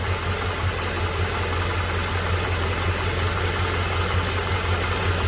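A 2011 Toyota Tacoma 2.7 engine with suspected head gasket trouble and overheating runs steadily at a held higher speed, giving a constant close hum and buzz with no pauses or talking.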